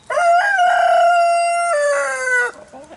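A rooster crows once, loud and close, in a long drawn-out cock-a-doodle-doo that lasts about two and a half seconds and ends in a few softer trailing notes.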